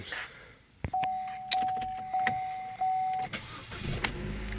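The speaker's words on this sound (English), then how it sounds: "we got it running again. Go ahead and crank it up." A 2011 Chevy Cruze with an intermittent stalling and crank-no-start fault, its starter cranking with a steady whine before the engine catches and settles into a close, steady idle, with no talking.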